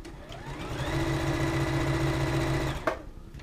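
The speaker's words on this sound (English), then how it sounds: "so without worry about the fabric tugging and pulling while you are sewing with the machine" A Juki F600 sewing machine on a wide extension table sews through fabric in one continuous, even-paced run of about two and a half seconds, then stops with a soft clunk.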